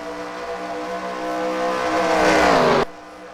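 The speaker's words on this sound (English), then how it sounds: "the powerful Roush Racing truck of HBK takes the lead" Racing truck engines roar in a video game race at Copper World Classic, a dense, steady wail that builds and rises in pitch as trucks pass, loud and close, then cuts off abruptly near the end.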